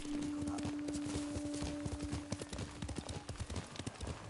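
Horse hooves clip-clop steadily in Ghost of Tsushima as the horse keeps a walking pace, with a faint tonal hum early on and no talking.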